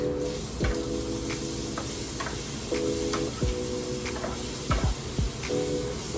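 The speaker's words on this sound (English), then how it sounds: "These we're just sauteing in some butter." Zucchini sautéing in butter in a pan, a steady soft sizzle running throughout with occasional clicks and utensil taps, close and moderately loud with no talking.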